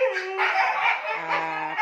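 A dog being held for weighing before deworming gives high yips and whimpering whines, several short cries in quick succession, close and fairly loud.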